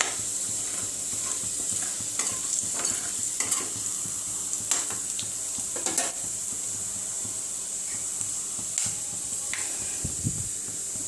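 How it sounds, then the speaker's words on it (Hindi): Curry leaves frying in a pan while a fish curry is cooked, a steady bright hiss of hot oil running throughout with intermittent scrapes and stirring clatters from a utensil, close by. "कड़ी पत्ता, अच्छे से इसको हमें फ्राई कर लेना है।"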